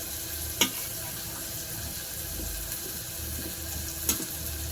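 Onion and tomato sauté in a pan, a steady broad sizzle running throughout, close and fairly loud, broken by two sharp stirring knocks against the pan.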